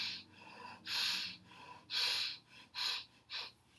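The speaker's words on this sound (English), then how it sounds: "Breathing deeply." Deep, audible breaths during a yoga session, several strong airy inhales and exhales in a steady rhythm, close and fairly loud with no talking.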